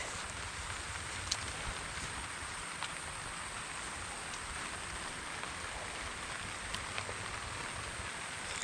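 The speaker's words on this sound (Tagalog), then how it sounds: "Yan na, umuulan na ulit." Steady outdoor rain falls continuously as a faint, even hiss with scattered drops, with no one speaking.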